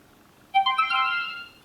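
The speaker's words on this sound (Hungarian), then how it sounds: "A kis hang jelezte is, hogy innestől kezdve rá van csatlakozva." A Bluetooth module in an STM32-controlled TDA7294 amplifier plays a short bright chime of a few rising tones when switched on, clear and close against a quiet background.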